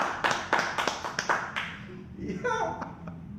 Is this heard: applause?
yes